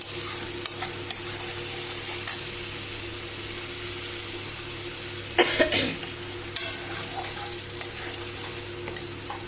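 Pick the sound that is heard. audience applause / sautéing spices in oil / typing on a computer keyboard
sautéing spices in oil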